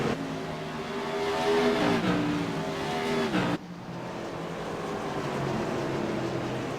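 Modified race cars roar around USA International Speedway, engines droning loud and close with rising and falling pitch as they accelerate, then a sharp drop as one pulls away while others keep rumbling.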